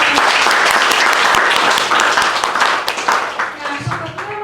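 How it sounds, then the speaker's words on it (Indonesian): Seminar audience bursts into dense, loud applause at the close of the session, steady clapping throughout with some voices mixed in near the end. "Berikan tepuk tangan yang meriah."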